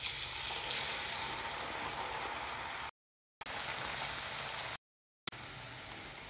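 Sweet potato frying in hot oil on a high flame gives a dense, steady sizzle with fine crackle, loud and close, broken by two brief silent gaps.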